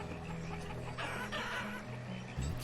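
Chickens in a pasture in the Banished city-building game cluck in a busy, continuous flock chatter with a few louder squawks near the end, steady and moderately close, with no voices over it.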